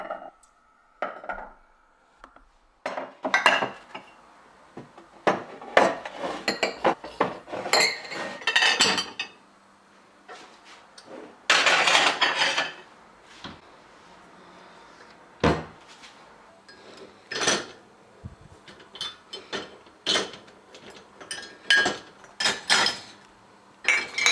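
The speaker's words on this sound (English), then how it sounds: "basically empty the dishwasher first, so I know what needs to be cleaned" Dishes and cutlery clink and clatter as a kitchen dishwasher is emptied, with irregular bursts of clattering crockery and cupboard knocks, close and fairly loud, with quiet gaps between.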